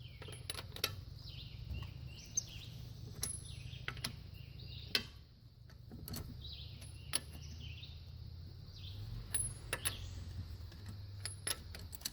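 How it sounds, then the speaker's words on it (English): A breaker bar with a 19mm socket cracks loose the wheel studs on a Subaru, giving a series of sharp, close metallic clicks and snaps at irregular intervals over a steady low background hum, with no talking. "grab our breaker bar and our 19mm and crack the wheel studs loose"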